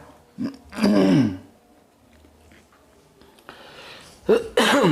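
A couple of rough throat-clearing coughs, close by, separated by a quiet pause, with a short burst near the end.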